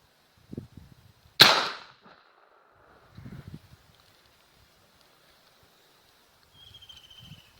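A single sharp air gun shot, an AFC-type airgun firing a tightly loaded pellet at pressure setting 35, cracks loudly once, followed by faint scattered handling noise in a quiet outdoor setting.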